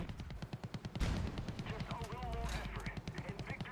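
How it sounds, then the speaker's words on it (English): A .50 cal machine gun firing in War Thunder, rapid evenly spaced bursts of shots running throughout, with a player talking over the gunfire. "Finish off the rest of my 50 cal just so I can get that reloaded"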